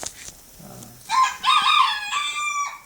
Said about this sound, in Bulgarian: Пауни.